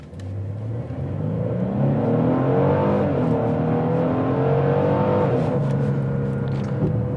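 A 2022 Genesis GV70 in Sport Plus mode revs hard, its engine note climbing and falling in a rising and sweeping pattern, close and fairly loud, with no talking.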